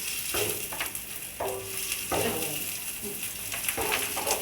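Chopped liver for ciğer kavurma frying in a pan with cumin, salt and pepper, a loud steady sizzle broken by repeated scraping strokes of stirring at an uneven rhythm.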